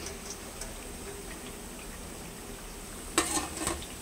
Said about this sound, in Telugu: ఇలాగా గోల్డెన్ కలర్లో వచ్చేంత వరకు ఇలా ఫ్రై చేసుకోవాలి